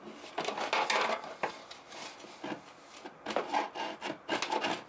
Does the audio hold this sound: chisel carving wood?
yes